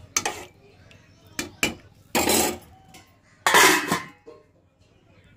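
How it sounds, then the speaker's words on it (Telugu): Several sharp metallic clanks of cookware, including a couple of longer ringing clatters, as a lid is set on a pot, with quiet gaps between. "దీని మీద మూత పెట్టుకున్నాం."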